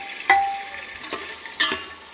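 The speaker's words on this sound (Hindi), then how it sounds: "अब हम इसे फ्राई कर लेंगे अच्छे से दही को" Yogurt frying over meat pieces in a pan, a steady soft sizzle with a few sharp scrape or clink accents from stirring, close and alone.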